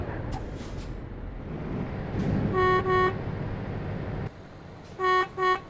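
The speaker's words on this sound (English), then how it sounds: "Oh my god, my horn sounds rubbish." Truck horn in a Euro truck driving video game, two short paired toots, a pause, then two more, flat and tinny over a steady low engine hum.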